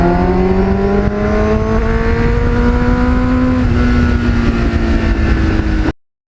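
A GPX750R motorcycle fitted with a Muzzy muffler exhaust runs with a loud, close, smooth tone whose pitch climbs slowly as it revs. The sound cuts off abruptly near the end.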